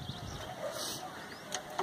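A Dhanne wala breed pigeon with yellow eyes gives soft, faint low coos against quiet background noise, with a few murmured voices.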